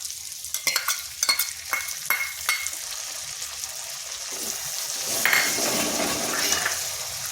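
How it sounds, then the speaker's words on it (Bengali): Ground cashew and poppy seed paste is stirred in a hot pan for a potato dum, with sharp spoon scrapes in quick strokes early on, then an even sizzle that swells slightly near the end. "এখন কিন্তু অনবরত নাড়তে হবে, না হয় কাজু বাদাম বাটা দেওয়া আছে তো নিচে লেগে যাবে।"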